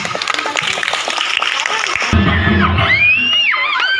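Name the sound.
applause at school felicitation ceremony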